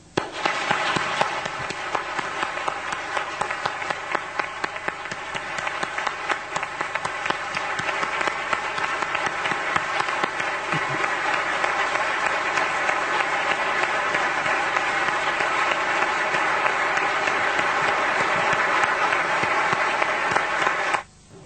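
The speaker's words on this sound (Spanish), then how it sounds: "Dediquémosle nosotros un aplauso caluroso a este gran hombre y gran amigo que se nos fue." An audience at a talk with writer Salvador Freixedo gives long, warm applause for a departed friend, a dense, loud, sustained wall of clapping lasting over twenty seconds before stopping abruptly.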